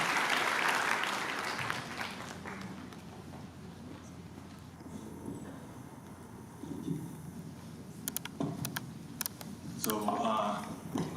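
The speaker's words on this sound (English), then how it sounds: "Let's give a loud round of applause for our Hari Kumar." An audience at a school live-streamed event claps in a broad, fairly quiet wash that fades and then swells again in sharper bursts toward the end.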